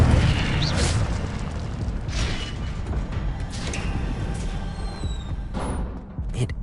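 In the game Wizard Simulator, an Incendio fire spell goes off as a dense, loud burst, a sustained roaring rumble with crackling pops and short whistling streaks, lasting several seconds and fading slightly at the end.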